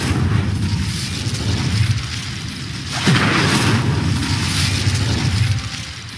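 A fire spell cast in the video game Hogwarts Legacy: a loud whooshing burst of flame erupts midway, then a sustained roaring blaze continues over a dense rumbling game soundscape.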